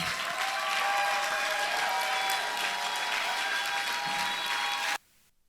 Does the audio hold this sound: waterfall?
no